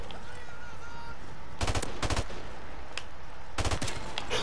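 Automatic gunfire in Call of Duty: Modern Warfare Remastered during a Domination match, three loud, separate bursts of rapid shots at close range over a low, steady game background.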